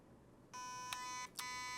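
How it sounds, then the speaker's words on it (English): Two sustained electronic beeps from an SSR4 ETU paintball gun entering programming mode, each with a sharp click at its start, the second beginning after a brief gap; loud and clear, no talking. "Two beeps."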